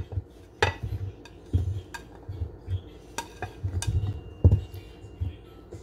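Cauliflower being stirred into batter in a bowl, with irregular spoon clinks and knocks against the bowl over soft wet mixing sounds, close and intermittent.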